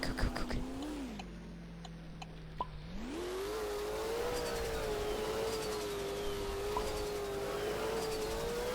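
A taxi in the Roblox video game speeds up with a synthetic engine whine that dips, then climbs and holds a steady rising tone, moderately loud and without talk.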